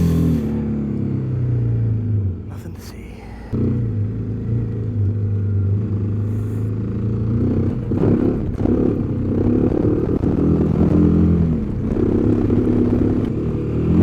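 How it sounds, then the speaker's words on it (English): Engine of a vehicle idling and revving as it comes out of a trail into oncoming road traffic, a loud close rumble with throttle blips and a few clattering knocks; a voice speaks briefly. "Coming out of a trail into oncoming traffic."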